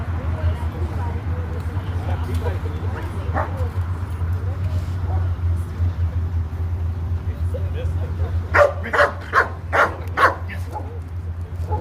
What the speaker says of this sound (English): Ghost here is a German Shepherd